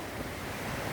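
Rain falls outside in a steady, dense hiss that stays even and close throughout the brief moment, with no voices.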